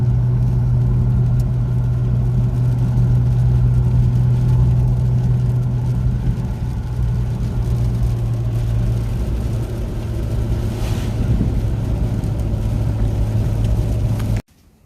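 A Nissan Patrol Y60 with an RB30 engine drives along a road, its steady engine drone and low road rumble holding constant and fairly loud for about fifteen seconds before cutting off abruptly.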